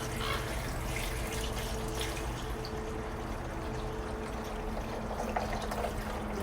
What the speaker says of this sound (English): I'm going to go ahead and put my punch mixture in